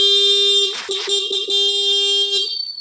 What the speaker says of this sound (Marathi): हॉर्न चालू